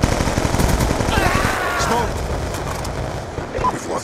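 Gunfire in Call of Duty Black Ops II during a team deathmatch on Cargo crackles in dense, rapid bursts, loud and continuous at first, then thinning out, with voices talking over it.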